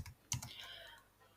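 Faint, close keystrokes on a computer keyboard while filling in a spreadsheet cell, a few soft clicks over a low background hiss.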